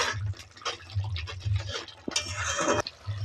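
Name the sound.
stirring spices with salt and turmeric in a pan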